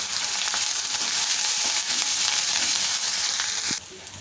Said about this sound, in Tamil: இது எல்லாமே நல்லா தாளித்து ரெடி ஆகட்டும்.